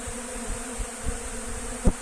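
A dense, steady buzz of many honeybees drying out honey frames hums close by, with a few louder passing bees briefly rising above the swarm.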